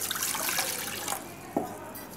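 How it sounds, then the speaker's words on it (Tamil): Water poured from a vessel into an idli steamer pot in a home kitchen, a steady splashing pour for about a second that thins out, followed by a brief small splash, close and fairly loud. "ஒரு இட்லி சட்டி எடுத்து அதில் கொஞ்சமாக தண்ணி ஊற்றிக்கிட்டு"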